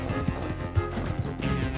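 Horse hooves clip-clop in Red Dead Redemption 2 in a short, fairly close run of uneven steps, with no talk.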